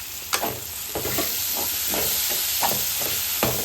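Tomato, mint and coriander sizzling in hot oil in a pan, a steady close frying hiss broken by repeated stirring scrapes at an even pace, no talking.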